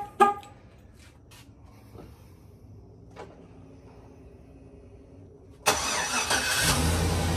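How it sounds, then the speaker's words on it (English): A 2009 Chevrolet Silverado fires up by remote start after a quiet wait, its engine catching suddenly and settling into a loud, steady idle close by. "And it does take a second for it to start up"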